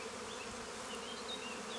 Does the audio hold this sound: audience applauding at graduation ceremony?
no